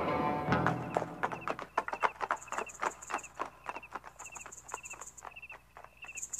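Cartoon horse hooves clip-clop in a quick, light, steady rhythm as the horse sets off, with faint chirping insects in the background and no talking.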